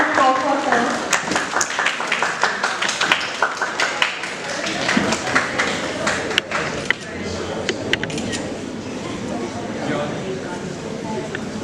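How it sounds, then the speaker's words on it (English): Audience applause for a guest at a human rights law event, uneven clapping from a modest crowd that runs steadily throughout with voices speaking over it. "A round of applause for her."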